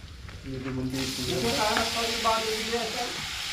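Onions and mushrooms hit a hot pan and begin to sizzle, a steady close frying hiss that swells and holds while a person talks over it.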